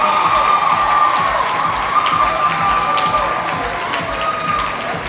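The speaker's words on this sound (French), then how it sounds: "Put your hands together again for all the contestants." At a lycée contest in a sports hall, a crowd cheers and applauds the contestants, a continuous roar of voices and clapping with a high whistle-like tone over it, fading slightly toward the end.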